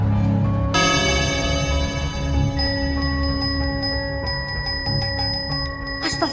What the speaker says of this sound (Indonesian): Makanya ada suara loncengnya.